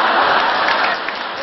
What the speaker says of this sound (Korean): 진짜 이 함성 소리 정말 듣기 싫으네요.